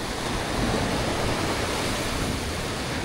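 Strong sea waves crash and roar continuously at a rocky fishing spot, a dense, loud wash of surf filling the whole moment with no voices.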